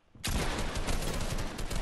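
Rapid gunfire bursts in the Fortnite Chapter 2 Season 3 video game, starting abruptly and continuing as a dense, loud volley with no voices over it.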